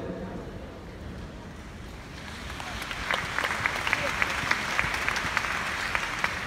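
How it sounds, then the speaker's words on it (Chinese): Scattered applause from a conference audience at an annual meeting in Hong Kong, a thin spread of clapping that builds slightly after a quieter start, with a low rumble of room noise underneath. "这个时候掌声不多是正常的"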